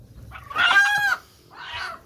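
Chickens give a loud, close squawking cluck followed by a softer second call, with no talking over them.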